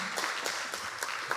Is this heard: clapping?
yes